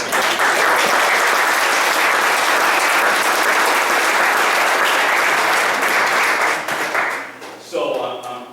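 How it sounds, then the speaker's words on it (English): A township committee meeting room fills with sustained, full applause for District 19 and Section 3 Little League champions, steady for about seven seconds before fading, with a voice starting to speak at the end. "Let's give them a round of applause."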